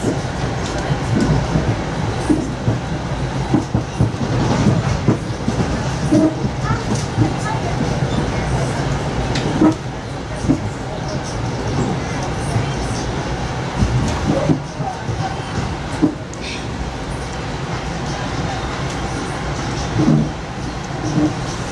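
A Budd M2 commuter train on the Metro-North New Haven Line rumbles and clatters steadily along the rails through Fairfield, Connecticut, loud and close from inside the car, with faint voices in the background.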